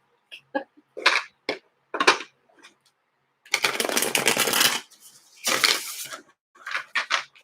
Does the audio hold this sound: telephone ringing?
no